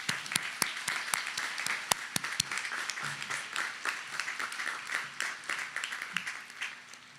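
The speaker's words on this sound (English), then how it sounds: "Please give them a round of applause." Audience at a high school graduation ceremony gives steady applause, a sustained patter of many hands with a few sharp close claps standing out, tapering off toward the end.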